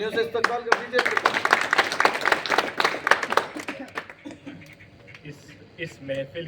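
Audience at an AIMIM party workers' gathering in Indore claps to welcome a speaker, a dense burst of crowd clapping that thins out after about four seconds into scattered claps.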